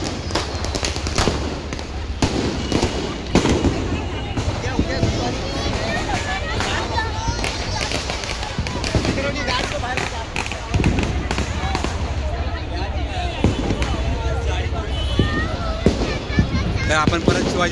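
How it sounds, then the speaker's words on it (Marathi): Firecrackers bursting repeatedly during a Diwali festival display at Shivaji Park, Dadar, with dense crackling and sharp pops over a noisy crowd and voices throughout. "या साईडला फटाके अजून पण लागतात."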